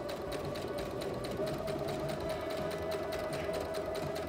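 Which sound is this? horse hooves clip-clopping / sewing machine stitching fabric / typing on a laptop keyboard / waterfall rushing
sewing machine stitching fabric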